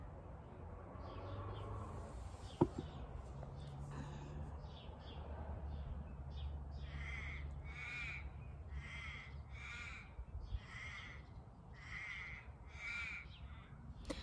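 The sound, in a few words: parrots calling outdoors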